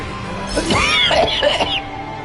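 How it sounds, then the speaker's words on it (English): A single harsh, throaty cough with a rough rasping burst, close and fairly loud, over faint steady background hum. "I apologize. I'm still coughing."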